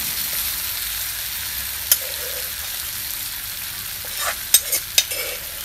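Broiler chicken meat fries in a pan with a steady, close hiss of sizzling oil. Toward the end come a few sharp clinks of stirring.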